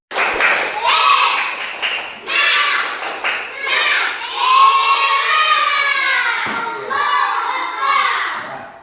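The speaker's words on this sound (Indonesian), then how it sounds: "tepuk semangat dulu" Schoolchildren in a classroom clap a rhythmic spirit-clap routine, bursts of hand claps alternating with chanted children's voices throughout.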